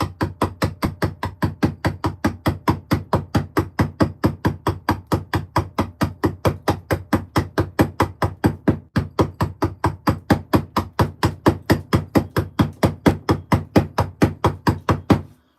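Hammer striking a chisel into stone during a carving session, a steady, rapid run of sharp, evenly spaced taps close to the microphone that continues without pause.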